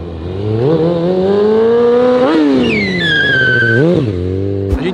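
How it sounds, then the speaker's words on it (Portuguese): Nissan 350Z drift car engine revving hard as the driver attempts donuts, harmonics rising and falling through several loud, near revs with a brief high tire squeal in the middle and a sudden cut at the end. "E vamos ver se eu aprendo a fazer um zerinho."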